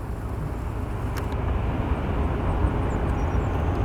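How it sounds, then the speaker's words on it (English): Aircraft taxi at Portland airport with a steady, moderately distant jet engine roar, plus a brief click and faint higher chirps partway through. "now we can finally get to our aircrafts that are taxiing in at the gate"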